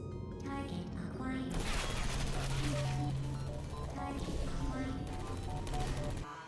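Turret gunfire at a target range in the Portal 2 video game, a continuous rattle of rapid shots over game music and effects, cutting off abruptly near the end.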